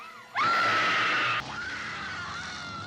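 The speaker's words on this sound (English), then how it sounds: "Cross your eyes and scream, man. Scream for your life." A single loud, sustained scream in a horror-themed setting rises sharply and holds for about a second, then breaks off into a quieter, wavering tail with no talk over it.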